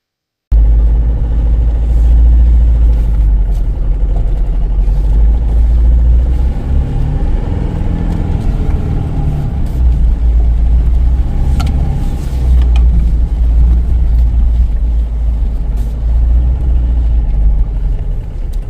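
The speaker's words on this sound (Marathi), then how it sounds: "हो, निघाली बाबा कशी तरी गाडी. बोलेरो आहे शेवटी." A Mahindra Bolero driving along a rough, bad rural road, with a loud continuous low engine rumble and road noise close inside the vehicle, plus occasional bumps and rattles.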